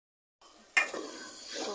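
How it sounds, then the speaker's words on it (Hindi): A roti lands on a hot tawa griddle with a sudden soft hiss after a brief silence. The hiss settles into a steady, close sizzle. "तवा गरम है, रोटी ऐड कर देंगे"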